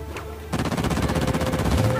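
Rapid automatic gunfire in a video game starts abruptly after a brief quiet moment and continues in dense, loud bursts to the end, with no talk over it.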